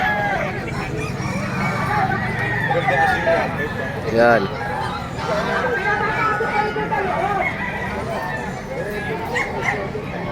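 Roosters crow repeatedly at a crowded pet market in Bocaue, their calls rising over a dense crowd babble with chicken clucks and a dog mixed in, while people talk nearby throughout.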